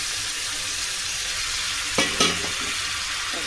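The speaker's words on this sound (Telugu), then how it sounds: "అన్ని టమాటాలు అలాగే వేసుకొని కొంచెం ఫ్రై అవ్వనిద్దాం" Chopped tomatoes fry on a low flame in a pan with a steady, close sizzle, broken by two quick scrapes of stirring near the end.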